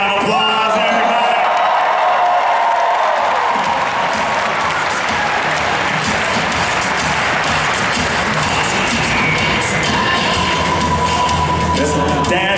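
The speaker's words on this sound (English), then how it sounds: "give this Dalek a big round of applause, everybody" A large convention audience at a cosplay championship breaks into sustained applause and cheering for a Dalek costume, steady dense clapping with whoops and shouts throughout, loud and continuous.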